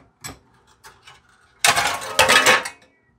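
Metallic clatter and scraping as a loose metal exhaust heat shield is pulled off a Jeep ZJ Grand Cherokee, a few light clinks then a louder burst of rattling sheet metal, close and dry.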